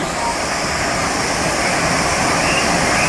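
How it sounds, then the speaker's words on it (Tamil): Chitraruvi waterfall at Kutralam pours in a constant, dense roar of falling water, loud and steady for the whole stretch, with no distinct voices above it. "அருமையான ஒரு அருவி சிற்றருவி யாரும் தவற விட்டுறதுக்காதீங்க"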